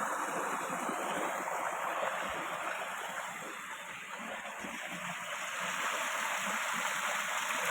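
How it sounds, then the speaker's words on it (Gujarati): Water gushes steadily from an electric pump into a farm water tank, a continuous loud rushing and splashing with a steady high whine on top and no talk. "મોટર પણ ચાલુ કરી દીધી. કુંડીઓ પણ ભરી લઈએ આપણે એકદમ તાજી."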